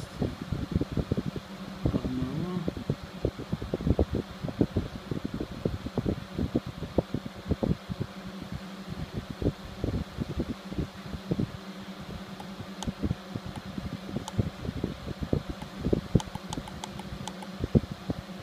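A small fan inside a homemade egg incubator runs steadily with a low hum and faint rattling ticks, fairly quiet and close, with no speech over it.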